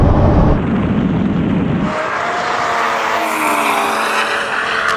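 A tuned VW Golf R accelerates hard in a drag race, its engine roaring loudly up close and then shifting up through the gears as the sound thins out and recedes.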